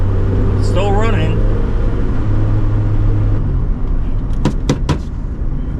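An old Honda car engine idles with a steady low rumble close by, a voice speaking briefly over it early on, then the engine note drops away and a few sharp clicks follow.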